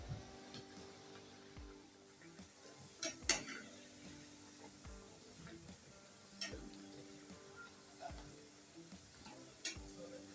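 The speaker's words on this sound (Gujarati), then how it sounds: "મુઠિયા થોડાક તળાય છે એટલે આ રીતના પલટાવી અને પાછા એને ફેરવી અને તળી લેવાના" Churma muthiya dough dumplings fry slowly in oil over a low flame, giving a quiet bed of sizzling broken by intermittent clinks and scrapes of a utensil turning them in the pan.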